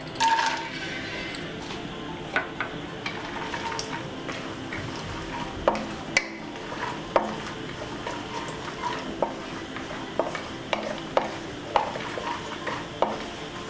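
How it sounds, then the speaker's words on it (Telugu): Cashews and almonds frying in hot ghee in a kadai, a soft continuous sizzle with a ladle stirring and scraping against the pan in irregular clicks and taps, fairly quiet and without talk. "నెయ్యి వేడైపోయింది. కాజు బాదము ఫ్రై చేసుకుందాం."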